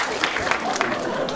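Short burst of clapping in a staged kindergarten-class comedy scene at a high school one-act show, welcoming a visiting dad; quick claps under a voice talking.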